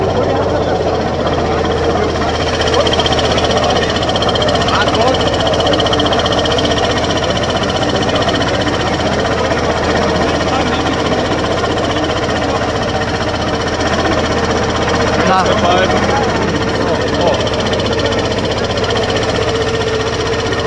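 A tractor engine runs continuously nearby with a rough, knocking drone that holds steady throughout, loud and unbroken, with no clear speech over it.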